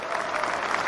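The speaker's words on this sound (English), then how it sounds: "Give yourself a big round of applause for that." A short burst of audience applause at a live morning show, steady clapping throughout with no voices over it.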